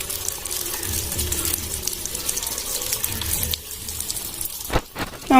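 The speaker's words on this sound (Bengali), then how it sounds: "ভালো করে ধুয়ে নিই মাছগুলো এবার" Fish being washed under running tap water in a sink, a steady close splash and gush with handling noises, ending in a few sharper clatters.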